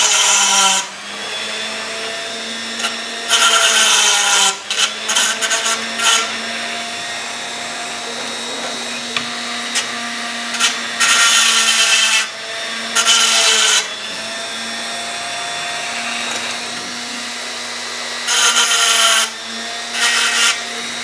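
A Dremel rotary tool grinds at a tin toy crane, whining in several loud bursts of a few seconds each over a steady background hum.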